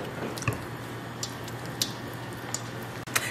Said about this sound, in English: and then stir to combine.